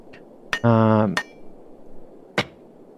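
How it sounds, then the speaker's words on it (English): A hammer smashes items in the video game Junkyard Builder: a few sharp, close impacts, with a brief ringing tonal sound between the first two hits and a final crack after a short gap. "Okay, smash 3 items. So we've got the hammer here."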